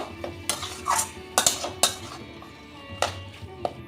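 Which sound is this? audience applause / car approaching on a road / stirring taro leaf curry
stirring taro leaf curry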